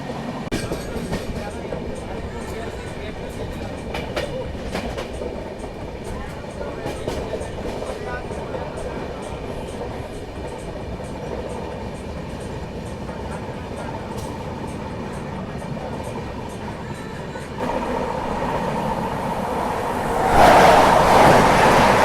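A passenger train, an express headed toward a crossing with the Azamgarh LTT Express in India, rumbles steadily along the rails with rhythmic wheel clatter, growing louder near the end, while someone talks over it.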